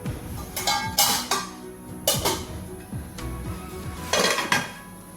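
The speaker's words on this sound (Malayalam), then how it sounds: "നമുക്കിത് അടച്ച് വെച്ചൊന്ന് വേവിക്കാം" Metallic clanks and clatters of a lid being set on a pan of cooking lentils, several sharp knocks spaced over a few seconds, close by.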